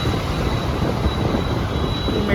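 Steady low rumble of a metro train at SR Nagar metro station in Hyderabad, a continuous broadband roar with a faint high whine running throughout.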